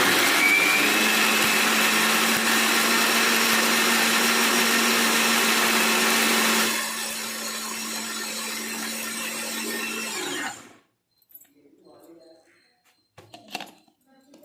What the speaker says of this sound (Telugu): మనం చక్కగా ఇలా మిక్సీకి తీసుకొని పేస్ట్ లాగా ఆడేసుకోవాలి అరటిపండుని